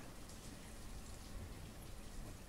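Steady rain hisses softly in the medieval town-building game Banished, a faint even patter of falling drops with no voices.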